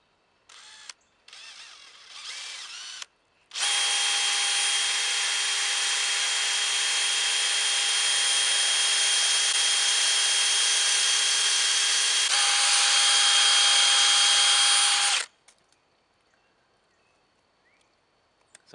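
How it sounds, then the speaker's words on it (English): Power drill boring a tap hole into a maple tree trunk, a steady loud whine held for about twelve seconds after a few short spurts, close by and alone, then cutting off abruptly. "I'm gonna drill my tap hole and I'm gonna drill it at a slight upward angle"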